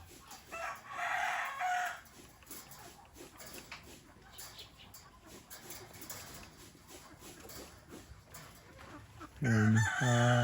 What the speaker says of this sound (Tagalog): ating mga manok.